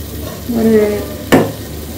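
Thick chicken biryani masala paste sautés in oil in a pan, giving a soft bubbling sizzle and stirring scrapes, then one sharp utensil clank.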